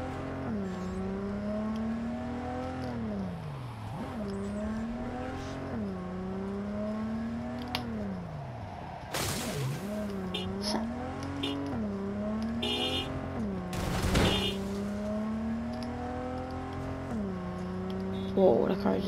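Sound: car driving fast in Cyberpunk 2077 video game

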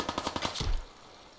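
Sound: gunshots from the video game Fallout 4

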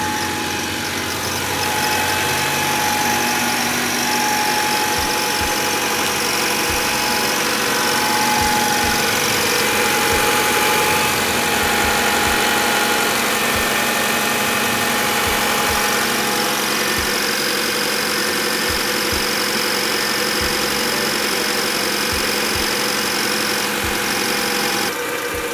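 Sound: Honda Accord CB7 car engine idling while bleeding coolant

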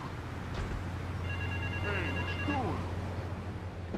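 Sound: payphone ringing in GTA 3 video game

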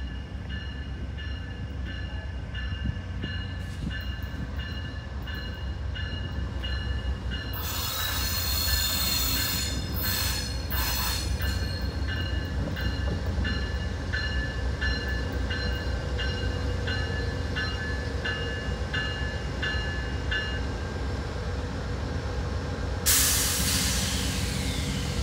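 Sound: Amtrak passenger train passing with squealing wheels

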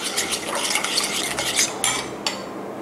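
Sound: stirring seasoning sauces together for Thai pork toast

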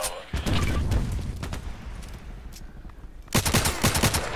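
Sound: gunfire from hip firing in video game Contract Wars

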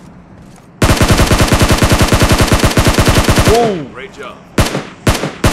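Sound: SCAR assault rifle gunfire in video game PUBG Mobile

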